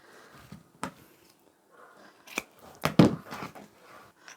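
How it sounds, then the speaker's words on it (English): Scissors cutting through a webbing strap for an apron, a few close crisp snips and crunches spaced irregularly across a quiet background. "the only thing we need to do is cut the webbing in half"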